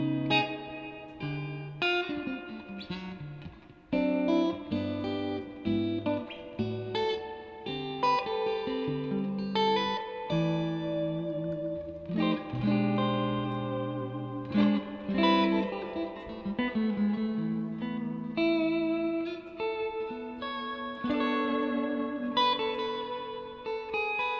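Electric guitar playing a surf-style instrumental line drenched in heavy spring reverb, notes ringing and smearing together in a steady, loud, continuous stream with no voices.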